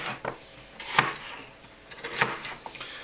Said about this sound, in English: all I'm going to do is chop up the apples